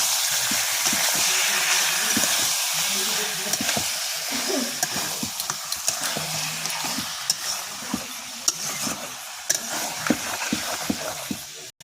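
Onion and garlic paste sizzles and fries in a pan, with steady hissing and occasional stirring scrapes throughout, close and moderately loud with no talking.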